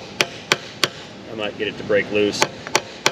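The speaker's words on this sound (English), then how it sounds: "I'm gonna try to hammer one of those onto that bolt on the outside" Sharp metal hammer blows drive a bolt extractor onto a broken bolt on a BMW 530i 3.0 engine, about eight evenly spaced strikes, with someone talking in the middle between them.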